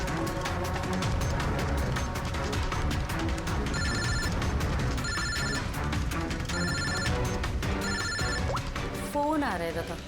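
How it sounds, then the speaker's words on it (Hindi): A telephone rings in repeated bursts of electronic trills over loud, busy background noise and chatter. "फोन आ रहा है"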